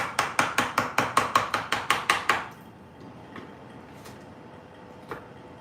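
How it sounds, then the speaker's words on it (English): Hand chisel work on wood for a curved rail in a workshop: a rapid run of about fourteen sharp, evenly spaced mallet-on-chisel strikes, then quiet with a couple of faint isolated taps. "This is basically like left-handed chiseling here."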